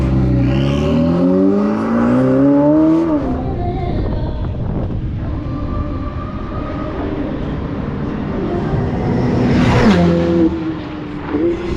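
A Ferrari race car in the Ferrari European Challenge passes the pits at racing speed, a loud engine note rising and then falling as it goes by, with steady engine and track noise throughout and a second sharp pitch sweep near the end.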